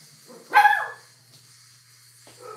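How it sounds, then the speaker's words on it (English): A dog gives one loud bark outside, followed by a quieter short yip near the end, against an otherwise quiet indoor room. "Big boy's out there barking."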